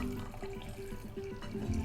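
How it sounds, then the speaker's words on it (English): Water is poured carefully and slowly from a cup for making homemade yogurt, a steady soft splashing trickle that runs quietly throughout, close and alone. "he's gonna pour in the cup of water"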